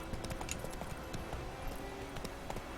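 Horse hooves clip-clop in a steady trotting rhythm in the video game The Witcher 3: Wild Hunt, faint and mixed with soft ambient game noise, without any talking.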